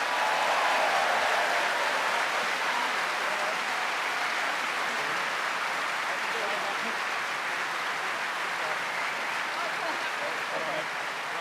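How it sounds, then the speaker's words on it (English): A large audience at a political debate applauds the debaters with steady, dense clapping that holds loud throughout and eases only slightly toward the end, with no voices over it. "a huge round of applause for our wonderful debaters"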